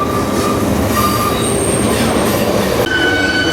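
A freight train rolls through a rail yard near Roseville, California, a loud, close steady rumble of wheels on track with high metallic squeals drifting in and out, no speech.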